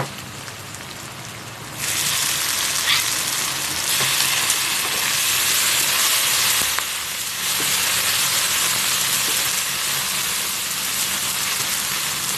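Sweet shrimp stir-fried in a wok for a holy-basil stir-fry with stink beans gives a loud, steady crackling sizzle that swells sharply after a quieter start and holds on without talk.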